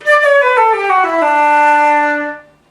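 Solo flute steps down through a few low-register notes with steady lip placement into a held low tone, clear and steady, then fades out.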